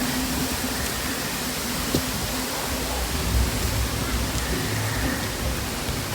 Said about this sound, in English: Raining a bit.